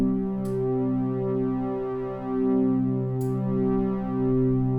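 An Arturia OB-Xa V software synthesizer holds one sustained, harmonically rich note, loud and steady, its level swelling and dipping gently as a slow LFO bounces it across the stereo field.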